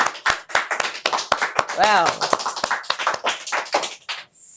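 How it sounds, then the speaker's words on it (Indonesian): Audience clapping in a talk-show studio, a series of sharp, separate claps spread across the moment, with a voice exclaiming briefly partway through. "Boleh tepuk tangan dulu teman-teman."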